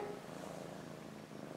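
A house cat purrs in a soft, continuous low rumble, close and steady throughout, with no other sound.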